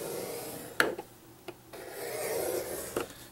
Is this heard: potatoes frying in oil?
no